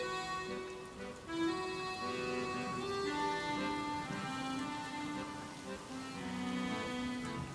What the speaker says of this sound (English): And then the rain began.